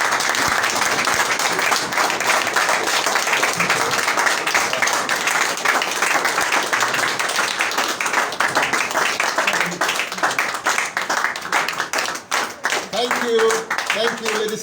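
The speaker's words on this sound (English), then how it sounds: "Rise up and clap for leader," A standing audience at a political gathering claps for a leader, a long, steady, loud applause with dense clapping and crowd noise, with voices talking and calling out underneath toward the end.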